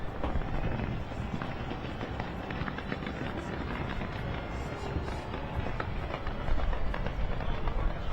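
New Year 2024 fireworks burst around a tall tower in a dense, continuous crackling barrage heard from a distance, mixed with crowd noise and a steady roar.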